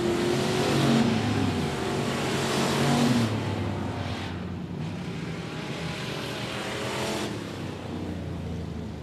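Race cars roaring around the oval at 105 Speedway during a regular race program, a loud continuous engine drone with revs rising and falling as the pack passes close by.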